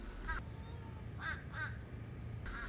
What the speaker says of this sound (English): What do you think that crow's saying right now?